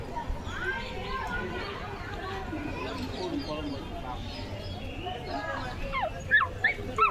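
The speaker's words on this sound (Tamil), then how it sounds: "இது நாய் மாதிரி கத்திக்கிட்டு இருக்கு." A puppy cries and whimpers with thin, high yelps that grow sharper toward the end, amid background chatter and children's voices.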